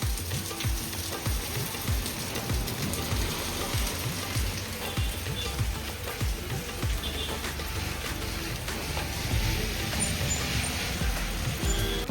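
Rain falls during bad weather at a deserted market crossroads, a continuous soft patter and hiss with scattered drips, fairly faint and without speech.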